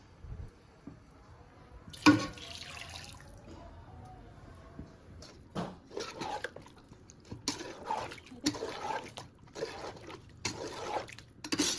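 Water from two glasses poured into chicken pieces in a pot for dum biryani, heard as a burst near two seconds and then several splashy pours and sloshes spread through the rest of the clip, close by.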